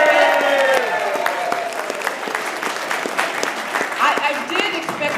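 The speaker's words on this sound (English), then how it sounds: "she would get the largest round of applause" Audience at a senior center applauding a woman being introduced by an official; dense, steady clapping from many hands with cheers mixed in, with a voice coming through near the start.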